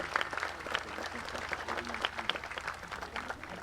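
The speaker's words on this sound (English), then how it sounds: "You deserve a round of applause." Audience applause at a VFW Memorial Day observance for the traveling Vietnam Memorial Wall, a moderate, fairly quiet patter of clapping from a crowd, steady over a few seconds.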